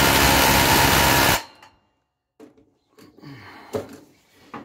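Power tool set to 226 Nm tightening a bolt, a loud dense whirring burst lasting just over a second that cuts off abruptly, followed by quiet handling clicks and faint sounds.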